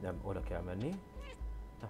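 A cat meows in the video game Stray, a drawn-out, rising and falling cry mixed in with someone speaking Hungarian over steady in-game background sound.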